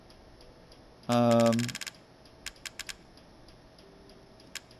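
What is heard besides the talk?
computer fan clicking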